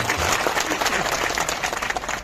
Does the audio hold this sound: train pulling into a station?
no